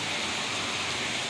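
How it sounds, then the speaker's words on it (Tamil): Steady, dense hiss of heavy rain pouring down, even and unbroken with no voices. "காலையும் நல்ல மழை, இப்போ நல்ல மழை"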